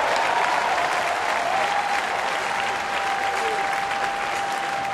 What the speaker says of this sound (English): This crowd reacting to every pitch.